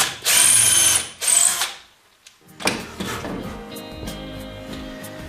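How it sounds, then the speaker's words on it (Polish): A Parkside drill drives wood screws with two loud whirring bursts, a brief pause, then a lighter stretch of mechanical clicking and rattling close by. "I przykręcamy wkręty."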